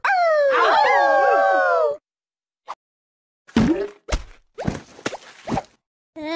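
A loud, wavering dog-like howl with several overlapping voices fills the first two seconds, then stops abruptly. It is followed by silence and short, sharp vocal bursts.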